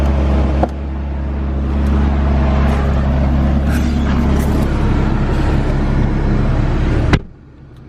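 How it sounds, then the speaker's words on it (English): A salvaged McLaren sports car engine runs at a steady, loud idle for about seven seconds, then cuts off abruptly, leaving a quiet low hum. "I'll get the car fired up"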